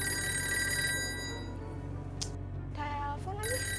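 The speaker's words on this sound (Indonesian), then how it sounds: "Telepon lagi." Telephone in a home in the morning ringing with a steady electronic tone, fairly close and prominent, broken briefly by short voices and a clatter.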